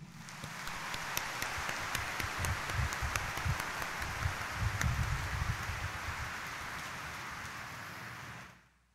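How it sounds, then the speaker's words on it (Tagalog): Church congregation applause at a Novena Mass honoring Jesus the Black Nazarene, sustained crowded clapping with scattered sharper claps, moderately distant and steady before fading out at the end. "iparinig natin ang mas malakas na palakpak"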